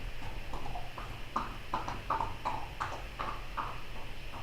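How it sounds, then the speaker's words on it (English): Horses' hooves clip-clop on a cobblestone street in a steady, rhythmic series of clear, moderately close strikes, with no one talking. "Horses riding here on the cobblestones on my street."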